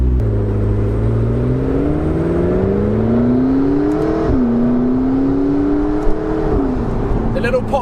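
A McLaren 650S Spider's engine accelerates loudly and steadily, its pitch climbing through gears with a shift dip around the middle, as a talking voice runs over it; the faint crackle near the end could be upshift pops.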